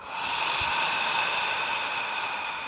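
A steady, breathy open-mouthed exhale sounding "ha" during yoga breathing, a soft airy hiss sustained for a few seconds without a break.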